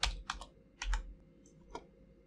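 Computer keyboard typing a username for a new Office 365 account, a few quiet, scattered keystroke clicks in short bursts with pauses between them, no speech.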